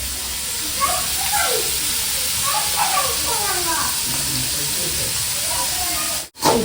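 Vegetables sautéing in a hot pan for homemade chicken fried rice, giving off a steady broadband sizzle and hiss with a faint voice talking under it, then a brief dropout near the end.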